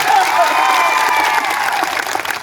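A large crowd at a political rally applauds and cheers loudly, a dense continuous roar of clapping and voices with a public-address ring over it, holding steady for the whole stretch.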